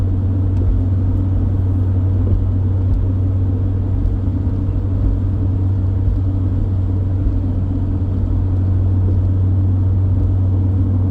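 A stock first-generation Honda CR-V (RD1) with a Yonaka catback exhaust cruises at steady highway speed, a loud constant low drone with road rumble that stays even from start to finish, no voices.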